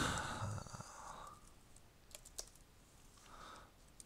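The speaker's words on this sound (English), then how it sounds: "In this form, I'll have to type in an email address." Computer keyboard typing as an email address is entered: a quiet, brief run of clicks at the start, then a few scattered key taps, near and soft.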